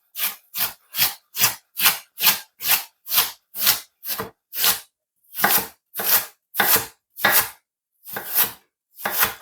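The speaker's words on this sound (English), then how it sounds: "With this also, I'm gonna julienne it." Knife slicing an onion into thin julienne strips on a wooden board, a close, regular series of firm chops, about fifteen strokes with a brief pause midway.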